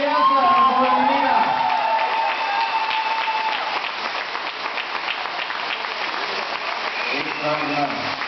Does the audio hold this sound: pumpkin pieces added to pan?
no